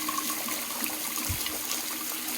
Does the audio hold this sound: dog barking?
no